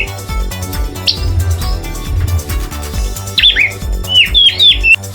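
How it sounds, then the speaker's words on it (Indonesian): An orange-headed thrush, the punglor bird, sings several clear, melodious whistled phrases that grow busier toward the end, heard over steady background music with a rhythmic low beat. "identitas fauna di Kabupaten Sleman adalah burung punglor."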